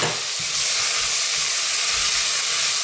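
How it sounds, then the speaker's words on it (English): Brown rice tipped into a pan of softened peppers, sizzling and hissing steadily at close range with soft stirring scrapes underneath. "now I'm going to add in the brown rice"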